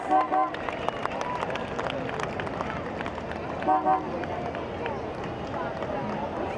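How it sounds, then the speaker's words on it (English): A parade crowd claps for Irish dancers at the St. Patrick's Day Parade in downtown San Francisco, a sustained wash of applause with a few brief louder swells, under an announcer speaking over a PA. "Can we get a big round of applause for Jackie Flynn, Irish dancers?"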